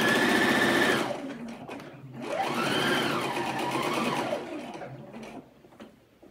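A sewing machine stitches along a slip dress in steady bursts, its motor whirring loud and close, pausing briefly between runs as the fabric is fed under the presser foot.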